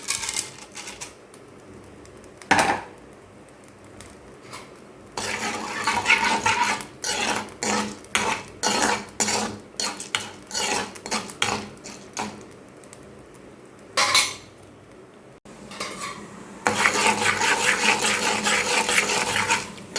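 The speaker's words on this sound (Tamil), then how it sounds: "சூடான உடனே இந்த கடலைப்பருப்பு ப்ளஸ் துவரம்பருப்பு அதை வறுத்து எடுத்துக்கலாம்." Chana dal and toor dal roasting in hot sesame oil in a pan, with close scraping and stirring rasps, bursts of rattling lentils against metal, and a louder sizzling stretch near the end, no talking.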